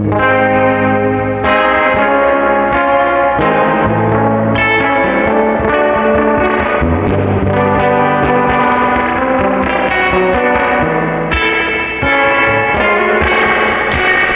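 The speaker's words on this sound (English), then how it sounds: "I love the reverb on this amp." Surf-style guitar played on a Gibson through a vintage 1966 Fender Twin Reverb amp, loud and continuous for the whole stretch, with a bright, heavily drenched reverb tail and no talking.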